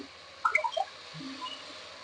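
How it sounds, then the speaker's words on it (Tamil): A brief burst of watery splashing and dripping as water is poured into a pot for mutton biryani, followed by quiet low rumble. "தண்ணி ஒரு 2 செம்பு ஊத்திக்கலாம்."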